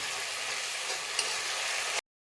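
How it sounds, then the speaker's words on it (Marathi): Finely chopped tomato puree frying over a high flame, a steady broad hiss of sizzling with one brief clink partway through, alone and close, cutting off abruptly near the end. "आता याच्यातलं पाणी आटू द्यायचं, तोपर्यंत फ्राय करायचं याला मोठ्या आचेवर."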